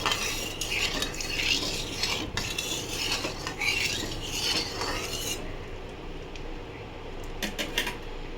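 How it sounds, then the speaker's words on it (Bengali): Fish stirred in hot oil after salt goes in, with close metallic utensil clinks and scrapes over a steady frying sizzle that eases off toward the end. "নুন দেওয়ার পরে একটু নেড়ে নিলাম"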